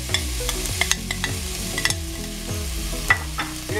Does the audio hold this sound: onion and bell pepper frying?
yes